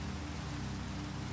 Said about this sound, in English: Toxic rain, too.